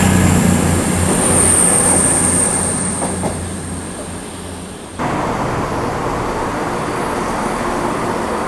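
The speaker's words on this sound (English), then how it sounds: "here is the Manchester Piccadilly train that brought us in as far as Cheltenham Spa" A Manchester Piccadilly train rumbles and hisses steadily nearby at Cheltenham Spa station, a loud continuous mechanical drone with a faint high squeal, then a sudden shift in tone.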